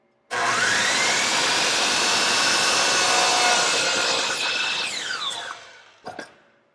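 A hand saw rips through wood for a painting frame in one loud, continuous cutting pass that fades out, followed by a couple of brief knocks.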